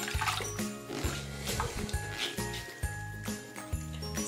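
A wet washcloth being wrung out, with water trickling and dripping in quick, irregular splashes close by, along with faint tinkling sounds.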